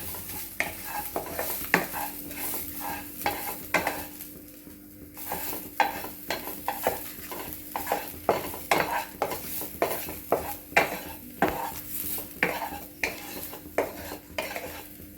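A spoon stirs bay leaf with crushed ginger and garlic in a dry, oil-free pan. It scrapes and clinks in a steady rhythm of repeated strokes, with a faint low hum underneath and no talking.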